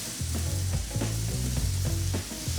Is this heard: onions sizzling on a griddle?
yes